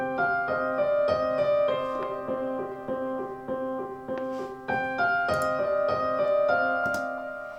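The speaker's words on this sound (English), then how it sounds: "The piano, it's the Grandeur. It's the Grandeur from Native Instruments again" Grandeur sampled grand piano from Native Instruments, played in Maschine as part of a beat, with a short melodic phrase of struck notes and chords that ring and decay over each other, close and clean with no voices.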